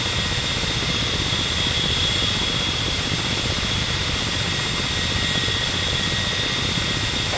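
A Ka-50 Black Shark attack helicopter in the DCS flight simulator drones steadily in flight, with a constant loud rotor and turbine roar and a thin high whine, no voices.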